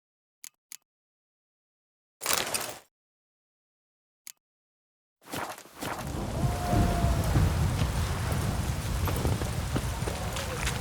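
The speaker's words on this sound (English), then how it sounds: "It's raining, of course it's going to be damp." Rain and thunder in The Witcher 3: after a few sharp isolated bursts, heavy steady rainfall sets in with a low rumbling, loud and continuous.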